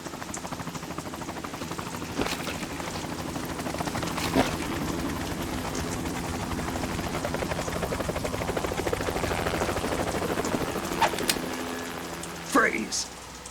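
Helicopter in the video game Metal Gear Solid 2, set on a tanker in the rain, with a steady close rotor thrum and whine beneath rainfall, and a few sharp game sound effects near the end.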